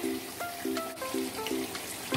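Shallots fry in hot oil with a faint, even sizzle that holds steady throughout, joined by soft repeating tonal notes in the background and no talking.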